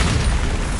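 A Bombarda spell detonates in Hogwarts Legacy, one loud, dense booming blast that fills the whole short moment.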